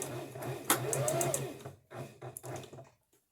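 A sewing machine runs in short bursts while stitching fabric and back-stitching at the end of a seam, close and moderately quiet, with a brief sharp click and pauses between runs.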